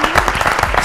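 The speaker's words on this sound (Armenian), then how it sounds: "ձեր ծափահարությունները," A studio audience applauds at the final of an Armenian television comedy game show, with brisk, close clapping in quick uneven bursts that stays at an even loudness through a short burst, with no talk over it.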